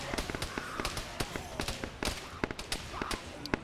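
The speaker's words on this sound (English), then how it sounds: "Bro's just running through gunfire." Rapid gunfire in the zombie shooter World War Z, with dense bursts of sharp cracks and pops firing continuously at moderate loudness.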